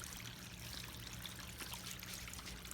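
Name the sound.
water trickling from a backyard fountain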